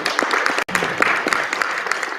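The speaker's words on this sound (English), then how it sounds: "let's give them another hand of applause, ladies and gentlemen" Audience applause at an educator induction ceremony: steady, fairly full clapping from a seated crowd, continuous apart from a momentary dropout, with no voices over it.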